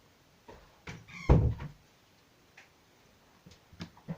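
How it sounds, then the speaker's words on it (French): A creaky indoor door swings shut with a short squeal and a firm thud, followed by a few faint clicks and small knocks nearby in an otherwise quiet room. "Ma porte qui grince, je vais la fermer."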